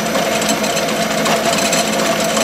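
Metal lathe running steadily at speed in a workshop, a dense continuous mechanical whir and rattle with a faint rising tone, loud and close with no voices.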